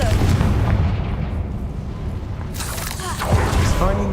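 In the Hogwarts Legacy video game, a Confringo fire spell erupts in a booming blast followed by crackling bursts and rumble, loud and near, with a voice heard alongside.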